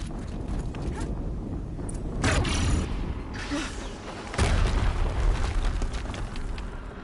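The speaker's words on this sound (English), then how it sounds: "Another explosion." Explosions in the video game Horizon Zero Dawn, with several heavy bursts and rumbling booms amid game action, one especially strong blast partway through followed by sustained rumble.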